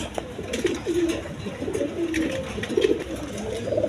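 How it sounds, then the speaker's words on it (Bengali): A caged pair of red Giribaz pigeons coos in low, rolling phrases that repeat steadily throughout, with no one talking over them. "এখানে এক পেয়ার গিরিবাস কবুতর আছে"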